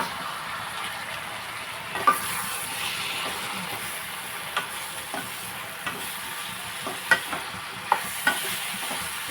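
Mushrooms and onions sizzle in a pan while a spoon stirs them, a steady soft frying hiss punctuated by sharp scrapes and clinks of the utensil against the pan, close by.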